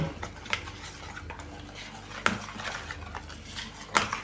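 A utensil scrapes and taps against a bowl while batter with turmeric is stirred, with occasional sharper clinks at an uneven rhythm, fairly quiet and close.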